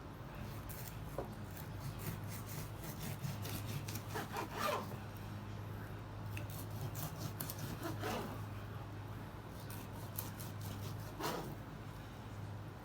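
A knife cuts through comp-style pork ribs and cartilage on a cutting board, making a steady, close rasping saw with a few sharper scraping strokes scattered through it and no speech.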